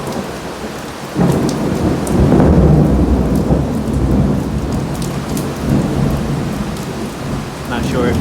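Thunder rumbles over steady rain in rural Jamaica, a loud rolling peal swelling after the first second and lingering beneath the constant hiss of a heavy shower falling on greenery.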